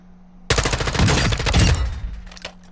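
Rapid burst of gunfire in Call of Duty DMZ, loud and close, starting abruptly and firing in a quick rattling stream for over a second before trailing off into a few scattered shots.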